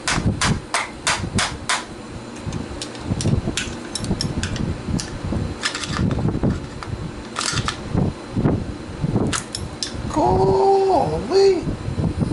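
Sharp metal hammer blows strike a stuck bike part in a workshop, a rapid uneven series of loud close bangs, followed by a brief squealing scrape near the end.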